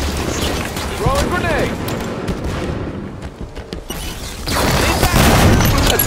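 Grenade blasts and gunfire from a Halo 5 Guardians Social Arena match, with booming explosions and rattling shots layered over game sounds and announcer-style voices, ending in a loud, sustained burst.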